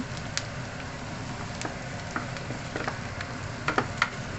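Coconut milk being mixed into cooked mung beans for ginataang monggo, giving a steady, moderately close sizzle with soft stirring scrapes and a few brief clicks.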